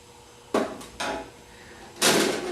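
Metal screws being taken out of the cover of a Hammond Model H organ give three separate clanks and clicks, sharp and close, with one louder clatter near the end. No one speaks.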